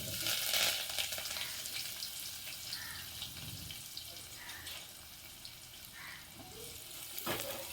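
Onion and curry leaves temper in hot oil for a goat curry, giving a quiet sizzle with some stirring and faint watery drips. Brief voices sound in the background.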